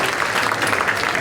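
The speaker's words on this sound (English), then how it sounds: "Give yourselves a round of applause supporting live comedy." Audience at a live comedy club show bursts into brief, lively applause, a dense wash of clapping lasting about a second with no talk over it.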